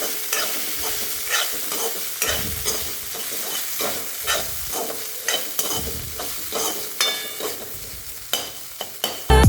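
Poha is stirred in a frying pan with repeated scraping strokes of a spoon against the metal at an irregular rhythm over a faint sizzle, close and clear with no talking.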